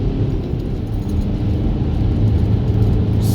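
A turbocharged Audi pulls hard in third gear along an empty straight road, its engine a steady low rumble heard from inside the cabin without any talk.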